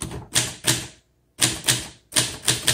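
Keys of a 1960 Adler Primus manual typewriter strike in quick bursts of two or three sharp clacks, close and loud, broken by a short silent pause partway through.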